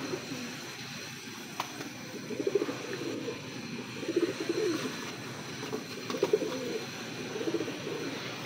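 Golden breeder pigeon hens coo softly close by, a few quiet rolling coos repeated at roughly even intervals over a low background hum.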